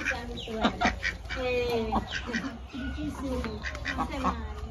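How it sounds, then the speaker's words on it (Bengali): Ducks quack and chickens cluck around a village yard in a lively, overlapping run of calls, with people talking nearby. "হাঁস"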